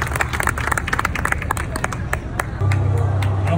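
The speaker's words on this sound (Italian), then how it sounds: "facciamo un applauso di incoraggiamento anche da là in fondo" Crowd at an outdoor evening festival show clapping in encouragement, a loud burst of many hands with distinct sharp claps and crowd murmur, joined by a low steady hum near the end.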